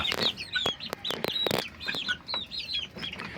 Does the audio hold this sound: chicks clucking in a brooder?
yes